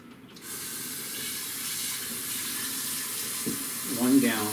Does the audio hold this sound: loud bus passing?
no